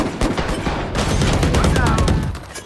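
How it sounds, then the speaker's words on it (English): Rapid gunfire from the tactical shooter Valorant, played on a controller, bursts of shots crackling steadily for most of the moment with a voice talking over the shooting. "I'm shooting."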